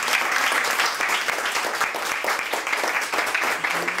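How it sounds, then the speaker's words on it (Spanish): An audience at a health center opening bursts into sustained applause, a dense wash of many hands clapping close and loud for a few seconds with little pause. "Así que vamos a darle un aplauso."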